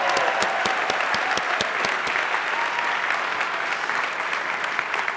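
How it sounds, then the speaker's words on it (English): Conference audience at the Atlassian Summit 2015 applauding, a steady, dense wash of many hands clapping that carries evenly from start to finish with no talk over it. "Give a round of applause for these guys."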